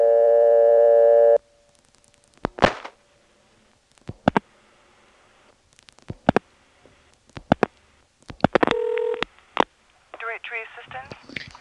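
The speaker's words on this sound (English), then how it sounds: "let's move on to the way of calling directory assistance from Belhaven, which is to dial in that Carolina telephone style" Rotary dialing into a 1977 step-by-step telephone exchange in Belhaven, North Carolina, calling directory assistance: a steady tone gives way to sharp, evenly spaced clicks of relay pulses, a brief two-tone signal, then a short burst of voice on the line.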